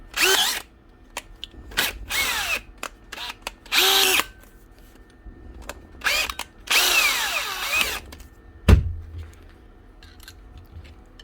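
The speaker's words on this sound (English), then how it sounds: "take your drill. Make sure you're on high speed." A DeWalt cordless drill whirs at high speed in several short bursts of varying length, separated by brief pauses, followed by a sharp knock near the end.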